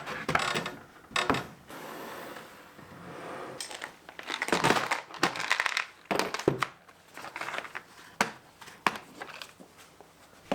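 Screws being driven into wood while assembling a cross cut sled, heard as irregular bursts of whirring and ratcheting driver noise with short pauses between them, close and fairly quiet.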